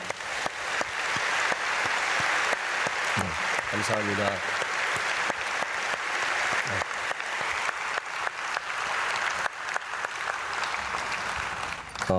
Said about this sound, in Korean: 우리 박수로 축복해 주겠습니다